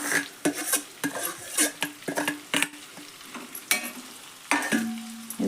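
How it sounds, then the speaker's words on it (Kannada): Masala and bitter gourd frying in oil while being stirred, with irregular close clinks and scrapes of a spoon against the pan over a soft sizzle. "ಇದನ್ನು ಇದ್ರಾಗ ಹಾಕಿಬಿಡ್ತೇನೆ ನೋಡ್ರಿ. ಎಣ್ಣೆ ಒಳಗೆ ಅದು ಫ್ರೈ ಆಗಲಿ ರೀ."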